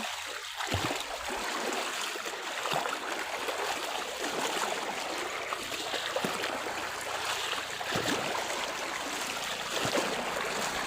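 Strong water current rushing through a flooded channel, a continuous broadband roar with gurgling and splashing, close and steady throughout with no voices.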